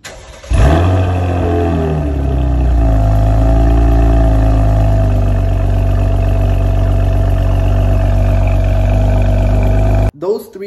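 A Chevrolet Camaro engine in its 1,000-mile break-in holds a loud, steady, deep growl for about ten seconds, rich in low rumbling tones, then cuts off abruptly near the end.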